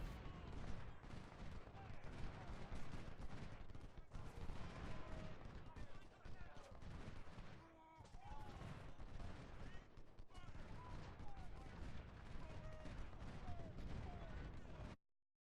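Battle sounds from the Civil War strategy game Ultimate General: Civil War at Shiloh: dense, continuous rifle volleys and booming artillery shots, with repeated cracks and rumbles layered throughout and a brief lull midway before the fire resumes.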